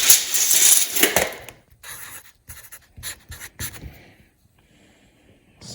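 Pen scratching on paper while noting a tire measurement during a toe adjustment on a Polaris RZR Pro R: a close burst of scribbling, then short intermittent strokes fading toward quiet, no talk.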